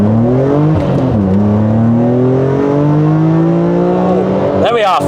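A BMW Z4 M's powerful engine revs hard and climbs through several gears with traction control off in a loud, continuous run, with a brief tire chirp near the end.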